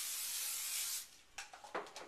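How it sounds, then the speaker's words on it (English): An olive oil spray bottle gives a steady hiss lasting about a second, followed by several short, quieter spritzes in quick succession, close up in a kitchen while preparing a roasted veggie sandwich. "So this is my olive oil spray. Just a little bit of spray."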